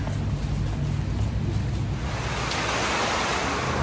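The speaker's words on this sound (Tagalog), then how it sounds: "umuulan na" Steady rain falls outside, a dense, continuous broadband wash with no breaks, fairly loud and close throughout with no voices.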